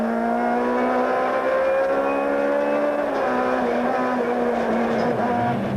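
A Toyota rally car at speed on a rally stage, engine note loud and sustained, rising and falling through gear changes as it drives past, no talking.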